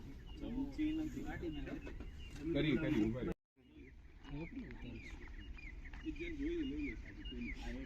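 Birds chirp and warble outdoors at sunrise in farm fields. The calls are mostly light and scattered and are partly masked by people chatting nearby, with a brief silent gap in the middle.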